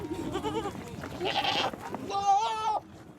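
A herd of goats in arid Kenyan grazing country bleats close by, several wavering cries in quick succession, one long quavering call near the end, with some human voices mixed in.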